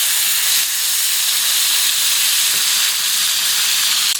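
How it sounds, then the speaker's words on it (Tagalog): Beans frying in a pan for pork adobo, a loud, dense, continuous hiss and sizzle close up, steady throughout with small crackles and no talking. "Sunod naman nating prito itong bean."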